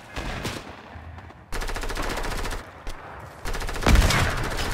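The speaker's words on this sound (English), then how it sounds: "This hunting rifle is crazy. So much damage." A hunting rifle fires repeatedly in the Fortnite video game, with several loud sharp shots separated by short gaps and game sound effects throughout.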